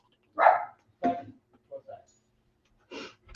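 Indoor house dogs let out a series of sharp barks and yips, about five short bursts with pauses between, fairly close and moderately loud.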